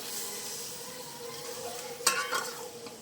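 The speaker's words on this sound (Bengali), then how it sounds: "এবার এটা ভালো করে একটু কষিয়ে নেব।" Yogurt-marinated chicken sizzles softly in a pan as it is sautéed, with a sharp utensil scrape and clink near the end of a steady, close frying hiss.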